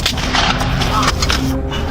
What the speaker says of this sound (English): More shots being fired right now.